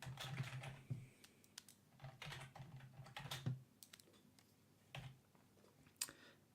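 Quiet, close typing on a computer keyboard, with irregular runs of soft key clicks broken by brief pauses and no voices.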